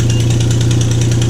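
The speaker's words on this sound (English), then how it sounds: "You can definitely hear a little bit of induction, even with that light throttle." A 2015 Infiniti Q50 engine with an AEM air intake drones steadily at low revs and light throttle with a pulsing intake hum, loud and close, with no talking.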